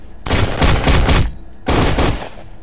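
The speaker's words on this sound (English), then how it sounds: "He rolls and then shoots a lot of bullets." Fantomex firing a long stream of bullets after a roll in Marvel Future Fight, two loud sustained bursts of rapid gunfire separated by a short gap, with no talk.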